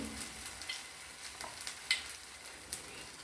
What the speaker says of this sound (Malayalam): നന്നായിട്ടൊന്ന് മുക്കിയിട്ട് ഒട്ടിയില്ല എന്നുള്ള പ്രാർത്ഥനയോടുകൂടി ഫ്രൈ ചെയ്തിട്ടുണ്ട്